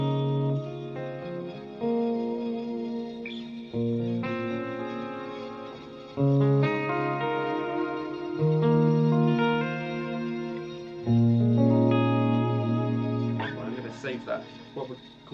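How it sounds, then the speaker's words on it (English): Electric guitar runs through a Line 6 Helix glitch delay with reverb in parallel. Sustained chords and notes ring out in separate phrases, each trailing into echoing, stuttering repeats and a reverberant wash. "it is called a glitch delay. So I could put, if I put that parallel and put like a reverb on it"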